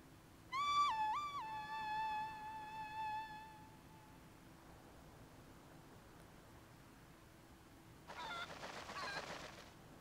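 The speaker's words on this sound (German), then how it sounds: "Ein goldenes Huhn." A golden cucco in Zelda: Twilight Princess HD gives a short burst of squawking, honking chicken calls, then quiet ambience and a later soft fluttering rustle, all faint.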